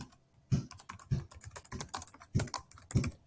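Someone types on a computer keyboard in short clustered bursts of clicky keystrokes with brief pauses between them. The typing is close and quiet, and no one talks.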